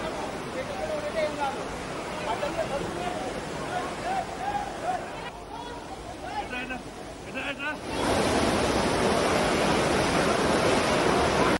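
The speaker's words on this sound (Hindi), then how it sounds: "पानी देखिए, पानी की रफ्तार देखिए" Rain floodwater pours through a flooded hospital parking area in Hyderabad, a constant close rush of water that swells sharply louder and denser partway through, with faint voices underneath earlier.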